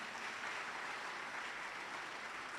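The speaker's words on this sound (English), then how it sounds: "let's clap for him" An audience at a business summit claps steadily, a faint, even wash of applause heard from a distance with no voices over it.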